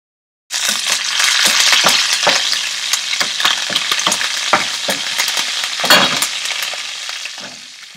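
Green chili, hing and curry leaves sizzle in hot oil while cooking a cranberry vegetable rice, a loud, dense crackling fry with sharp spatters and pops throughout, and no voices.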